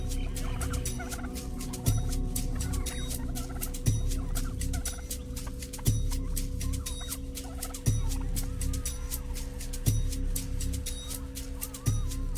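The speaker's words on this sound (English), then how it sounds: "from bushland to suburbia, is the often annoying and always confronting brush turkey" Australian brush turkey calling in bushland or suburbia, a steady run of low grunting notes with a regular pulse about every two seconds, close and clear, with faint background chirps.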